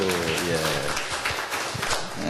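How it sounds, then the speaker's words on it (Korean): A church lecture group applauds one another at the close of a course, brief scattered clapping mixed with voices talking over it. "우리 박수 한번 서로 격려하는 차원에서 박수."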